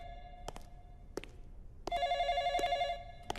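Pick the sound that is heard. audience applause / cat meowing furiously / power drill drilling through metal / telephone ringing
telephone ringing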